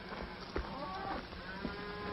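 Cattle mooing on a farm property, several low drawn-out moos from nearby animals overlapping one another at moderate volume, with no talk.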